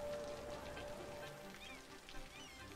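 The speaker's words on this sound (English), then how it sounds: "I love the graphics of this game in the rain." Steady rain falls over a city in Cities Skylines during a thunderstorm, a continuous even patter and hiss filling the whole stretch with no break.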